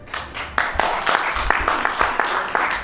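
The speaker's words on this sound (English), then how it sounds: "Big applause," Audience applause at an art talk show on stage at an art fair in Jakarta, a steady patter of many hands clapping at moderate loudness, filling the whole stretch without talk over it.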